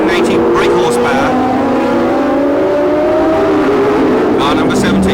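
A 1976 Formula One car with an eight-cylinder engine revving to 11,000 rpm, a loud high whine rising and falling as it passes, under continuous commentary.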